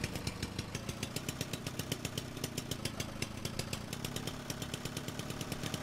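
A small two-stroke engine from the driving game Jalopy runs steadily at close range, a loud, buzzing, lawnmower-like drone with rapid regular firing pulses and no talk over it.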